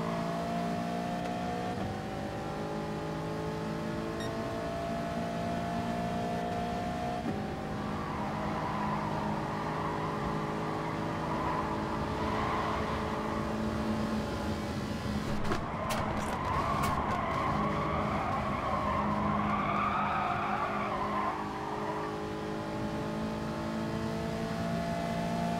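A Ferrari race car in Gran Turismo Sport drones with a steady high engine whine, joined by loud tire squeal and skidding through corners as other cars run nearby, continuous and close throughout.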